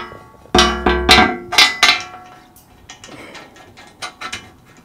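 Metal clanks and knocks as a bolt is fitted through a steel shield on a Q-Catch cattle chute being converted, a quick burst of loud ringing hits early, then softer scattered rattles and taps.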